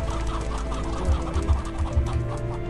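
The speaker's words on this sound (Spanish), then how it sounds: "una gallina." A chicken clucks several times in the post-apocalyptic role-playing game ATOM RPG Trudograd, with short, close, low clucks spread over a steady background of game ambience.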